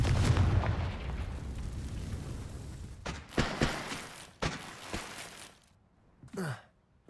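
The Confringo blasting spell in Hogwarts Legacy erupts in a loud rumbling explosion that fades, followed by several sharp blast bursts and a short breathy grunt near the end.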